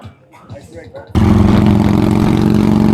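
A Harley-Davidson Softail motorcycle engine abruptly bursts into a loud, steady rumble near the microphone after a quieter stretch of faint, uneven background noise.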